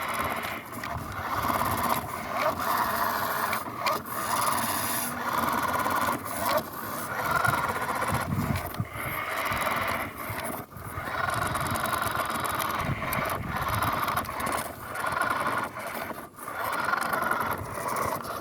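A cheap toy-grade RC car driving in first gear, its small motor giving a continuous raspy, grinding whine that wavers as it strains over terrain, close by with no voices.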